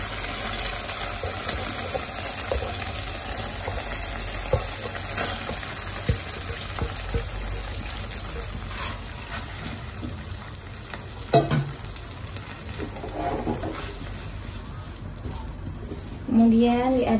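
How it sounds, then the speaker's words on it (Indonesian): Boiled rice vermicelli frying and being stirred in a pan, a steady sizzle with occasional scraping strokes, and a voice speaking briefly near the end. "Kemudian diaduk-aduk sampai merata"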